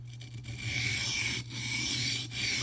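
A mini cleaver's bevel scrubbed back and forth on a sharpening stone at a held angle: continuous close gritty rasping strokes with brief pauses between passes.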